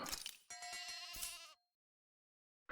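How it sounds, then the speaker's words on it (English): A synthetic sheep bleat in the video game Tales of Arise, a single wavering tone following a short burst of noise, then silence before another sound begins. "I guess we'll get another cow, and another sheep."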